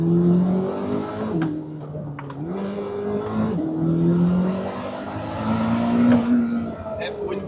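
A stock factory car engine runs while driving, its steady drone rising and falling with throttle changes and a few revving surges; close, continuous and fairly loud throughout.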